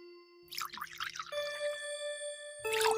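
Water is poured onto a duck's head, giving soft dripping and trickling splashes over a few seconds, with steady tonal background music running underneath.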